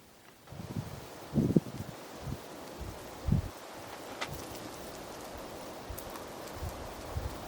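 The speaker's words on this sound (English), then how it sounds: "A crazy wind came with that rain wall that just hit" Rain hisses steadily as wind gusts rustle through nearby foliage in the Boundary Waters, with a few soft thumps and knocks close by early on.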